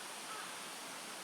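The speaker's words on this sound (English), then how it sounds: "Kind of up in mountains, running along a creek, bubbling" A mountain creek beside a walking path gives a steady, even rush of water, a soft broadband wash with no gaps over a short stretch and no voices.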